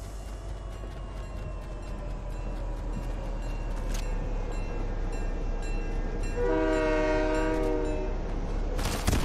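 Train in the Fortnite video game rolls past with a steady rumbling clatter, then a loud tonal horn blast sounds partway through, clear and fairly close, with no talking.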